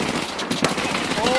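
Automatic gunfire from a weapon in Escape from Tarkov, a short dense burst of rapid shots running through the whole moment, with a sharper crack near the middle and a voice speaking over it.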